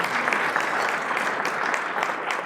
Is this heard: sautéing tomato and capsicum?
no